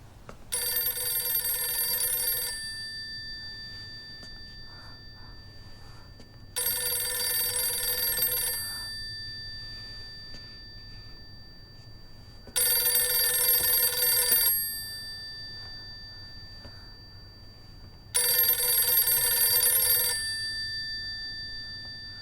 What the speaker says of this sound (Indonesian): Kok ada telepon?